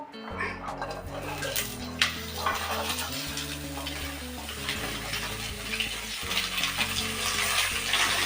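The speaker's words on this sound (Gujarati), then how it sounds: "અને શાકભાજીને ઘીમાં સાતડી લેશું" Mixed vegetables sizzle and crackle in ghee in a kadai, with a steady frying hiss and occasional stirring, set under soft background music.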